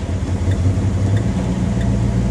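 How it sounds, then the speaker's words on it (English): A 1978 Mercury Grand Marquis engine idles on a manual choke, giving a steady, close, low rumble with no revving. "I'm trying to experiment with settings of the choke that'll keep the engine running."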